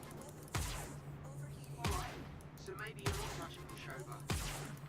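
Ship weapons fire in the Star Citizen game aboard a MISC Reliant Kore, sounding as four heavy, evenly spaced blasts over a steady engine hum, with voices talking in the background.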